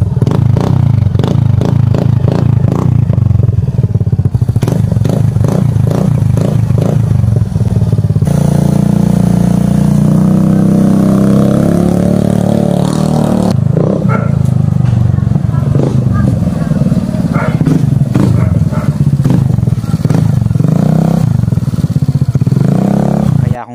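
A Suzuki Burgman Street 125 with a newly fitted muffler revs up close and loud, pulsing throttle bursts giving way to a sustained roar, then choppy revving again.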